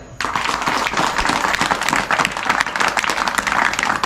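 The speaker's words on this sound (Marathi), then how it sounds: "अरे वा काय सुंदर टाळी वाजवली राव" An audience claps together in loud, dense, sustained applause that starts abruptly and carries on steadily, with no voices standing out.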